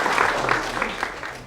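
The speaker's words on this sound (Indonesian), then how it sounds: "Silakan kembali tepuk tangan untuk dia." Applause from an audience at a college event in Palembang, a brief patch of dense clapping at moderate loudness with a faint murmur of voices beneath.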